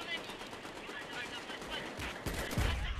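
Gunfire in the VR World War II shooter Medal of Honor: Above and Beyond, fired at a planted bomb, with dense rattling shots throughout and a louder burst or blast near the end.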